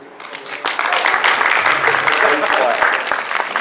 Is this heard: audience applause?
yes